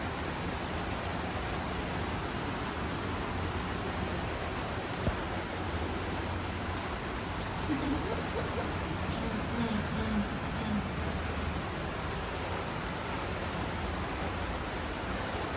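Heavy rain pours down steadily as a dense, constant hiss that fills the whole stretch at an even, loud level, with no other distinct sounds standing out.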